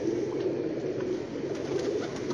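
Pigeons coo steadily from a rooftop breeding loft of a pigeon master in Sialkot, a continuous low murmur of several birds close by with no talk.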